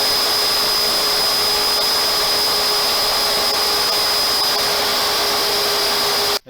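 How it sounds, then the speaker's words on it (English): A table saw runs through a wider board in a 1905 cottage restoration: a loud, steady, even whine with no talk, holding for about six seconds before cutting off abruptly at the end. "I'm going to give it one more pass through the table saw"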